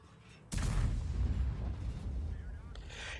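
A tank cannon fires in the video game World of Tanks, a single sudden loud boom with a rumbling tail that fades over the next few seconds and a brief secondary crack near the end.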